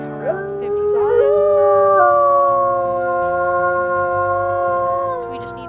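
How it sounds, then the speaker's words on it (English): A wolf howls in the video game WolfQuest: Anniversary Edition, one long, loud, close howl that sweeps upward and then holds a steady wavering pitch for several seconds, with layered tones and no talking. "I'm gonna howl to get this piece of territory up real quick"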